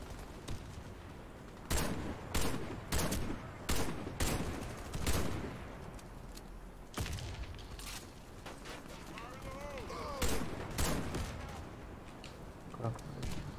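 Repeated gunshots from the video game Warface on Xbox One, sharp bursts in clusters with pauses, over steady background ambience and some talking.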